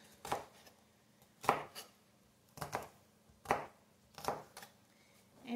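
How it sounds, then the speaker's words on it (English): A knife dices a green pepper on a cutting board in five or six distinct, evenly spaced chopping thuds, close and clear in a quiet kitchen. "One green pepper diced up."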